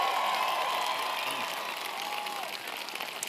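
An audience at a South by South Lawn discussion with President Obama claps steadily, the applause gradually thinning out over a few seconds.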